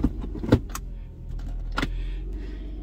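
A car being shifted off the roadway: low engine idle rumbles underneath a few sharp clicks and knocks, like a door or controls being handled, close by and at moderate volume.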